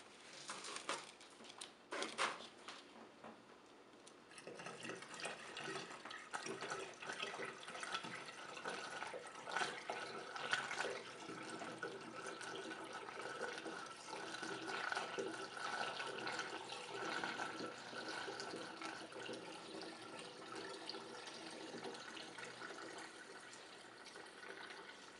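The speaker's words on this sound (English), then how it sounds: "And we'll add the rest of the water." Water pours into a moonshine mash in a continuous splashing, gurgling stream lasting over twenty seconds, steady and close, after a few clanks at the start.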